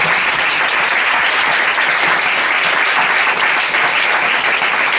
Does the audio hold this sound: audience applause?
yes